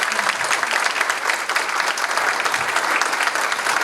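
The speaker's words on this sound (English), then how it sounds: "We're going to give you a little round of applause for raising such a wonderful daughter." Wedding guests give the bride's parents a warm round of applause, steady, continuous clapping from a roomful of people, fairly close and even in loudness.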